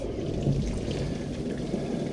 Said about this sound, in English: we just pour boiling water over it, just to get any starch off